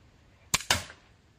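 Two sharp gunshots fired close together, short cracks with brief decay, loud against a quiet background.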